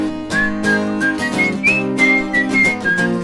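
Close, loud whistling of a song's whistle section, a bright melodic line of short repeated phrases over a sustained musical backing, with no talking.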